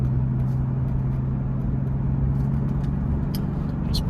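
A Mercedes-Benz CL65 AMG with a manual swap cruising gently while its new clutch is broken in, a steady low engine drone with road noise from inside the cabin.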